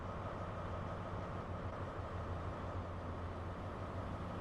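Great Western Class 43 HST diesel train in blue livery in a train simulator game, a steady low engine drone with a constant rumbling hum, sustained and even throughout with no talk.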